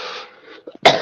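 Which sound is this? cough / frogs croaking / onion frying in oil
cough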